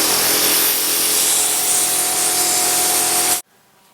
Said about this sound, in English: now my assistant is going to blow out the inside of the tube with an air hose